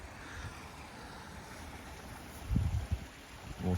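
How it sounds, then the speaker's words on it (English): Steady rushing water flowing through field drains and dikes on a flooded farm, a continuous outdoor wash with wind noise and a few low thumps toward the end; no voices. "Water's flowing well around here."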